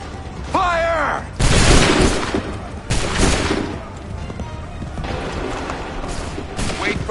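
Musket volley fire in Assassin's Creed 3: several loud, broad crashing bursts of gunfire about every second and a half, with a lingering rumble between shots and a voice calling out at the start.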